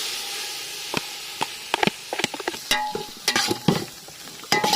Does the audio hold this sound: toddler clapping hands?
no